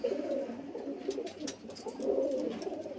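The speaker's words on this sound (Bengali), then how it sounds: "নাইস দুটো পায়রা।" Two green Madrasi pigeons coo softly nearby, low rolling throaty calls repeating continuously in a quiet setting, with faint wing or background rustles.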